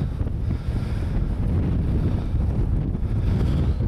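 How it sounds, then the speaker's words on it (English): Wind buffets a microphone outdoors on a mountain in the northern Rhinogydd, a loud continuous low rumble of breeze that lasts the whole stretch with no other sounds. "the audio will be disrupted very soon because of the breeze"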